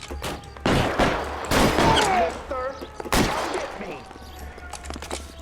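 Gunfire in the video game L.A. Noire: bursts of shots crack in rapid volleys alongside thuds, with a voice talking intermittently over the shooting.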